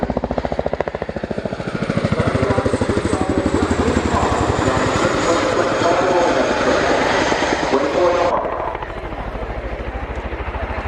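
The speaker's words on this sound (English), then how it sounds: "As the aircraft runs in for its landing pit stop" A military aircraft roars in loud and close to land at an air show, its engine thrumming with a rapid rotor-like pulse before the pitch drops and the noise eases near the end.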